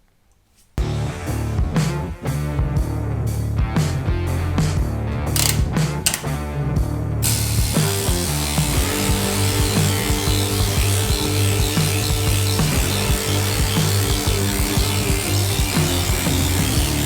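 A JRM planishing hammer pounds a metal panel in a fast, continuous rattling rhythm, loud and close, running steadily without pause.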